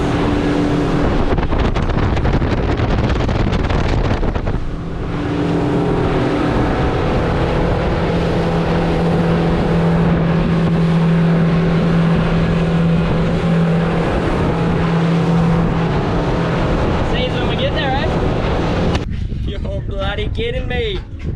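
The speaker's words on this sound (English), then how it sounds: "Slapped the boat back in and I'm heading north now" A motorboat engine drones loudly and steadily as the boat heads north on open water, with heavy wind rumbling across the microphone.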